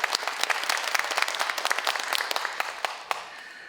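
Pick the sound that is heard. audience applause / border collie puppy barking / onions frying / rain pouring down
audience applause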